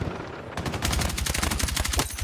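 Rapid automatic gunfire in Battlefield 6, a fast rattling burst of evenly spaced shots starting after a short quiet lead-in and running to the end, moderately loud.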